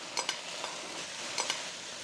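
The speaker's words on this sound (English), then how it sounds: "I'm gonna stir this sauce before I add it to the pan" A utensil stirs Mongolian beef sauce in a pan, soft swishing and a few light clinks against the pan over a faint continuous background, close and brief.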